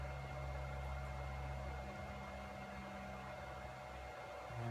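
A Bridgeport J2 milling machine driven by a ClearPath servo spins at 1100 RPM, giving off a steady, dense mechanical whir with a low hum beneath it that shifts slightly near the end, and no one speaking.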